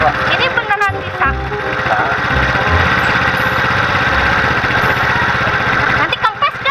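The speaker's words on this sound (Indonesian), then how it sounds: "Biasa ini baru turun mesin." A motorcycle engine that has just had an engine overhaul idles steadily and loudly close by, a continuous rough rumble heard the whole time, with people talking over it.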